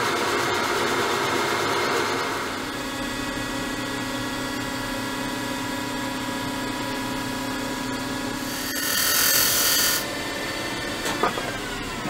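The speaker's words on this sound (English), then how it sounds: "Little bit of hand sanding. So going with the grain now." A turned wooden decorative box spinning on a lathe is hand-sanded along the grain, giving a continuous abrasive rubbing hiss over the lathe's steady hum, with a brighter scratchy burst near the end.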